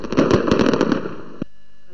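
Fireworks and firecrackers crackle in a rapid, dense string of sharp pops and bursts over New Year celebrations, loud and close, then stopping abruptly with a last faint pop.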